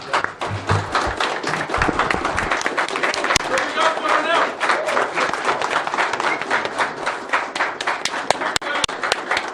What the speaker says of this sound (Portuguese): de pé, uma salva de palmas para o Coronel Ulisses pela iniciativa